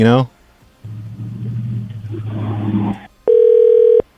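A steady telephone dial tone sounds for under a second after a hung-up call, loud and clear, following a low rumbling line noise.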